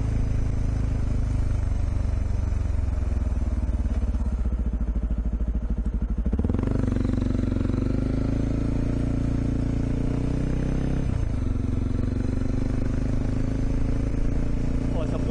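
A motorcycle rides along at night with a constant loud engine drone and wind rush, its pitch shifting and rising as it accelerates, while a voice talks over it at times.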